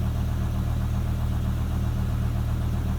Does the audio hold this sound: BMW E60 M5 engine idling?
yes